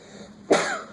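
A single abrupt sneeze or cough-like burst erupts in a quiet classroom during a math lesson, sharp at onset and trailing off over the following half second, with no talk around it.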